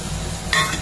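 Stirring potatoes and spices together in a chicken curry pot, a brief faint scrape with soft background sizzle, a short brighter scratch near the end.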